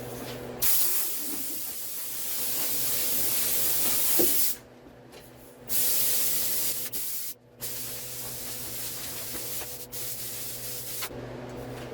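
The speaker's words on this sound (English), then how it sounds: "let's spray that one right now" A spray gun hisses in long bursts as it coats a 2004 Dodge Ram 1500 truck hood with mixed primer in a shop, loud and close, separated by brief silent pauses.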